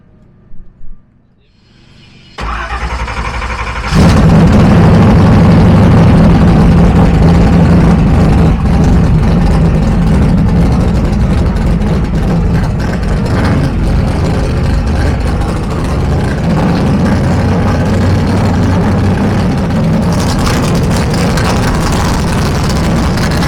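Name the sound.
Murder Nova race car engine running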